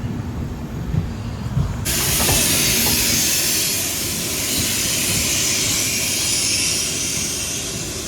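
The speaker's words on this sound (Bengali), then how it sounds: "ট্রেন এখন ঢুকছে নিউ জলপাইগুড়ি স্টেশন" A train pulls into New Jalpaiguri station, heard from inside a coach: quiet rumble at first, then a sudden loud, steady rushing hiss swells up and carries on with faint clanks beneath.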